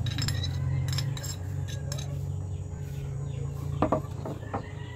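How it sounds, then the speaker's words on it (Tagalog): A utensil scrapes and clinks in a bowl while sliced onion is mixed into chopped tomato. The clatter is steady and close, with a few sharper knocks near the end, over a constant low background hum. "Ihalo na natin yung sibuyas"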